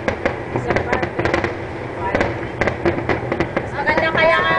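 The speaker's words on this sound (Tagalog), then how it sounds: "mas maganda ang fireworks" Fireworks at a Hong Kong Lunar New Year display burst in a rapid string of sharp cracks and pops, loud and close, with crowd voices talking and cheering over them.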